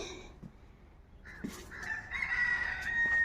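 A rooster crows at a rooftop vegetable garden, one drawn-out call that rises near the end, after a few faint clucks and soft knocks.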